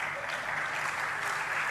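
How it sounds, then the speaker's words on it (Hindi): An audience at a spiritual discourse breaks into brief, dense clapping, a steady crowd of hands applauding together for under two seconds. "अब बजाओ ताली"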